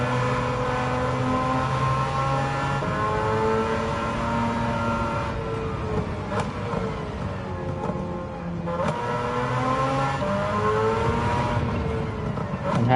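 A rotary-engine-swapped Mazda MX5 in the racing game Gran Turismo 7 drones steadily at high revs, its buzzing pitch rising and falling with light throttle shifts over a sustained, fairly loud run.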